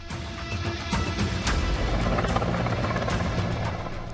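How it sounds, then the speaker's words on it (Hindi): An Indian Air Force helicopter lifts a broken-down helicopter near Panchtarni on the Amarnath route, its rotor chopping in a steady rhythmic beat over a constant engine whine at moderate distance. "एयरफोर्स के हेलीकॉप्टर को एक खराब हेलीकॉप्टर को उठाकर ले जाते देखा गया"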